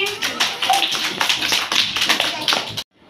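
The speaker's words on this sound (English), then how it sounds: "Mango. Very good. Do clapping." A group of LKG schoolchildren clap in a classroom, a brisk, fairly loud run of uneven hand claps close by that lasts nearly three seconds and then stops abruptly.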